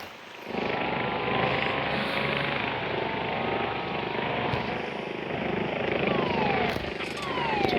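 Helicopter flying overhead as a continuous broad rotor and engine roar, steady and fairly distant, holding level for several seconds with no voices.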